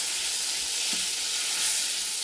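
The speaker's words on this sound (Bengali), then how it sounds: "এই দেখো উচ্ছেটা আমার ভাজা হয়ে গেছে" Bitter gourd slices frying in oil in a pan: a loud, continuous close-up sizzle with a dense, even hiss throughout and one small crackle, with no voices.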